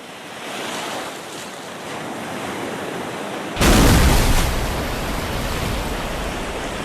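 A crashed fighter jet sinks into the ocean in an Oculus Quest 2 VR flight game: a steady rushing wash of noise, then a sudden loud splash-like surge that keeps roaring to the end.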